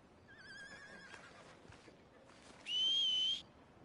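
A horse in the Red Dead Redemption 2 video game lets out a wavering whinny. A sharp, sustained whistle-like tone and faint hoof sounds follow.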